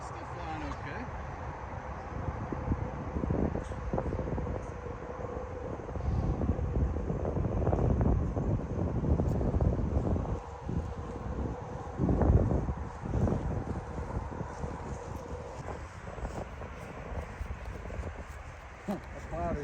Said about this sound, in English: Definitely more windy today.